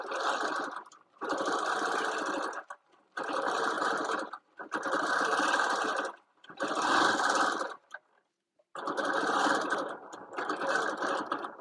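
A sewing machine free-motion quilting with the BSR1 stitch regulator sews in loud, close bursts of rapid whirring stitching, roughly six runs of one to two seconds each separated by short pauses.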